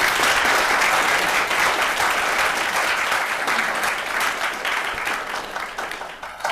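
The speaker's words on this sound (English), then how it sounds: "a huge round of applause for these amazing people" An honorees symposium audience breaks into loud, sustained applause that fills the room, the clapping easing slightly toward the end with no voices over it.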